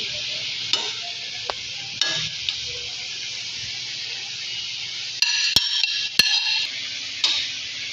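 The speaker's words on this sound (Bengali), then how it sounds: "এবার ম্যাগিগুলো সেদ্ধ হতে দিলাম।" Maggi noodles cook in a pan, giving off a steady hiss and bubbling simmer close by, broken by occasional sharp clinks of a utensil against the pan.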